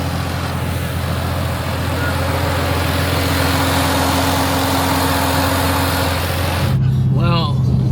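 A Ford Falcon with a turbocharged Barra engine idles through a stock 4-inch dump pipe into a 3.5-inch exhaust, a steady loud low rumble that holds throughout before a brief change near the end.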